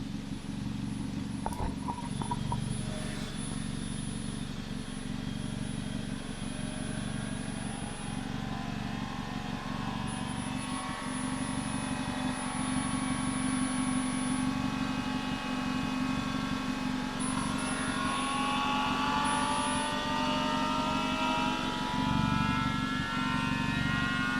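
An Audi S3 8V Haldex coupling runs basic settings, steady mechanical whirring and engine drone humming continuously close by, with whining tones rising and shifting over the running noise.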